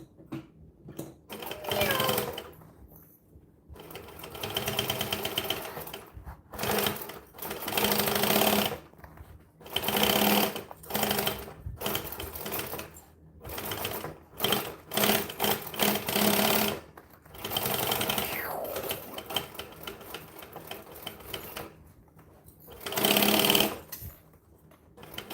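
Sewing machine stitching a bag in stop-start runs, with many short and medium bursts of rapid mechanical chatter broken by brief pauses and handling sounds, fairly close and steady in level.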